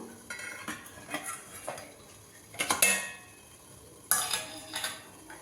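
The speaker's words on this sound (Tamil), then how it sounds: "இதில் வந்து கத்தி விட்டு பார்த்தோம்னா வெந்துருச்சான்னு தெரியும்" A knife goes into semolina pudding in a metal pan to test doneness, giving light scrapes and a few bright metallic clinks against the dish, close and quiet.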